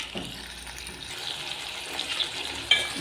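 Onion and spice masala sautés in oil for a brinjal gravy, giving a continuous hissing sizzle with light stirring, close and fairly even in level.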